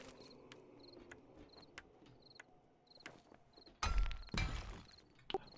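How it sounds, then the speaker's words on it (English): Crickets chirp at night in the survival video game 7 Days to Die, a steady run of faint, evenly spaced trills, then a short burst of loud thumping and clattering near the end. "Pretty quiet. Only crickets."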